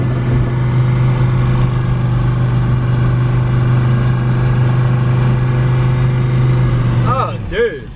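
A Mercedes diesel car, rebuilt as a rat rod, is held at full throttle on a hill in a loud, steady, droning roar from close inside, then the engine note drops away in the final moment.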